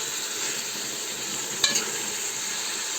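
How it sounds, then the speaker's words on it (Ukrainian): Steady, dense sizzling of onion frying in hot oil fills the clip, with a brief scrape or clink of a utensil partway through. "Чуєте, як шкварчить?"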